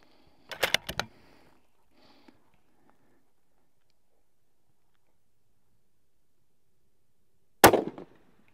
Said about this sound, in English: Let's take a couple shots from that position.